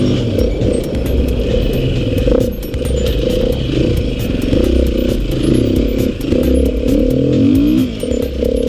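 A Beta RR480 enduro motorcycle engine grunts steadily in third gear on an enduro loop, loud and close, with a continuous low thumping roar that swells and dips slightly as the throttle changes.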